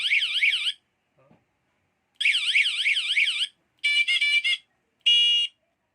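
Electronic bike horn accessory cycling through its tones: a warbling siren burst, a pause with a faint click, another long warble, then two short bursts of different beeping tones, loud and close.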